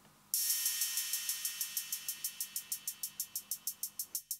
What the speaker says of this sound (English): And the hi-hats and cymbals sound like this.